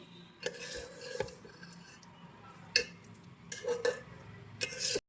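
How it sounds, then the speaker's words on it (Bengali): Gobindobhog rice is stirred and fried in a pan over a low flame, with intermittent metal scrapes and clinks of a spoon against the pan over a faint background sizzle. "এবার চালটাকে আমি একটু ভালো করে ভেজে নেব একদম লো ফ্লেম দিয়ে চালটাকে"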